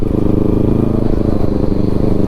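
A motorcycle fitted with an aftermarket silencer is ridden, its exhaust giving a loud, steady, close rumble throughout, with no talking.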